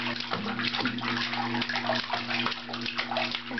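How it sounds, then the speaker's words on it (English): A child splashes in bathtub water, with close sloshing and a steady watery wash, while a faint voice and a low hum sit underneath. "Please splash in the water."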